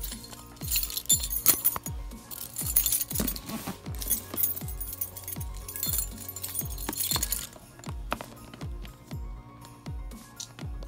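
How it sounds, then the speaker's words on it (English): Keys jingle and clink close by as they are pulled out during a Sekiro: Shadows Die Twice unboxing, metallic rattles over a steady thumping music beat. "Let me get my key out."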